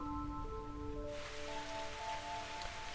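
Rain in the Xenosaga video game begins suddenly as a dense, steady hiss after a quiet stretch, rather close and even, while soft sustained tones of game music continue underneath.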